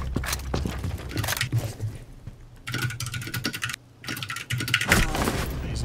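Rapid typing clatters on a computer keyboard during a Rainbow Six Siege session, dense irregular keystrokes running nearly nonstop with a brief pause, close and fairly loud over game sounds.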